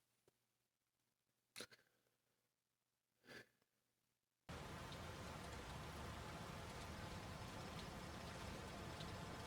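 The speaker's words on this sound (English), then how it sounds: "The rain is deafening now." Heavy rain pours in the video game Tron: Identity, a dense, steady roar that starts suddenly after a few seconds of near-silence broken by two soft breathy sounds, then continues loud and unbroken.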